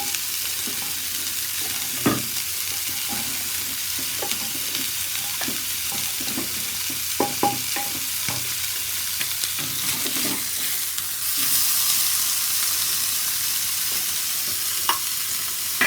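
Fish pieces frying in a pan of oil for fish biryani, a continuous close sizzle dotted with scattered clicks and spatula knocks, swelling louder toward the end, no talking.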